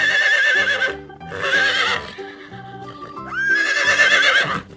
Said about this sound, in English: Horse. Here comes a horse.